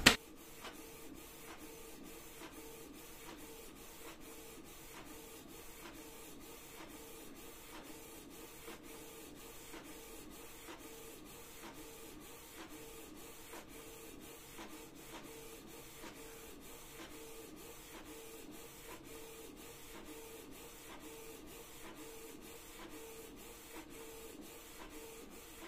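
A Canon TS207 inkjet printer runs a colour page, giving a steady, quiet mechanical whir broken by regular rhythmic clicks of the print head passing back and forth throughout.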